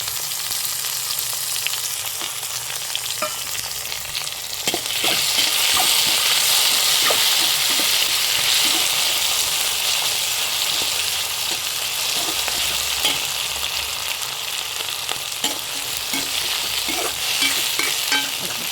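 Tomatoes fry and get stirred in a pan, with a steady close sizzle and repeated scraping clicks of the spoon that continue throughout. The sizzle grows louder partway through.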